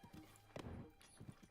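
Horse hooves in Zelda: Breath of the Wild, a few quick thudding clip-clops as the horse lands a jump, heard faintly under game ambience.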